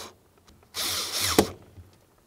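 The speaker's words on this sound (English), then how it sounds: "Start in each one of those mounting screws before you tighten either of them." A power drill whirs in one short, loud burst of under a second as it drives a mounting screw for a door latch, with the surroundings quiet before and after.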